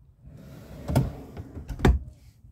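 A long drawer in a 2014 Evergreen Ascend A191RB travel trailer slides and lands with two close, dull thumps about a second apart, in an otherwise quiet interior.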